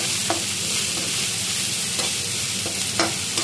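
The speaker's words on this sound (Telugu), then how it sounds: "కొంచెం కరిపత్తి ఇంకా కొంచెం ధనియా పత్తి, కొత్తిమీర వేసుకుని ఫ్రై చేసుకుని" Curry leaves and coriander fry in a hot pan with a constant loud sizzle, broken by a few short stirring scrapes and taps, with no voices.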